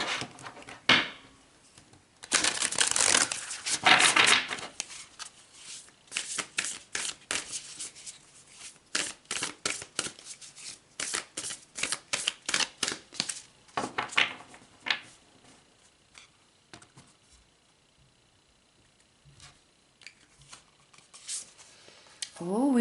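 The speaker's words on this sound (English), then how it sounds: "let's pull another card." Oracle cards are shuffled and handled, giving bursts of riffling and quick papery flicks, some louder and some faint, close by, with a person speaking intermittently.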